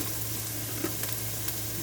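Onion and garlic fry in a pan in a homestead kitchen, a soft continuous sizzle over a low steady hum, with a few faint taps of stirring and no voices.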